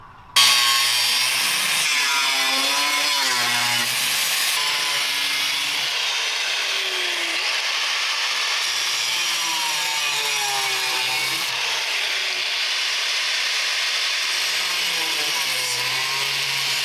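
An angle grinder works a welded steel patch on a boat hull, a loud continuous abrasive whine with wavering pitch as the disc bites and eases across the metal, running unbroken nearly the whole time.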